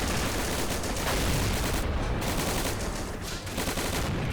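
Mortars and heavy tank cannons fire in a war video game, a dense, continuous barrage of overlapping blasts and rumbling booms that fills the whole stretch at steady high loudness.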